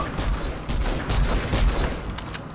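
A gun fires in a video game, a rapid string of loud, close shots in quick bursts layered over a dense wash of battle noise.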